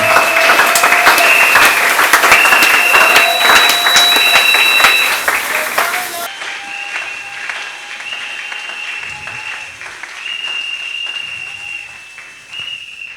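Church congregation applauding loudly with whistles cutting through, a dense burst of clapping that drops abruptly to a quieter, sustained round of applause with whistling continuing.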